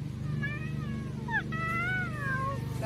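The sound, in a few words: person imitating a cat meowing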